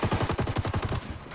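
Rapid bursts of gunfire from both sides in a Ghost Recon firefight, about a dozen sharp, evenly spaced shots crackling close and loud before tailing off near the end.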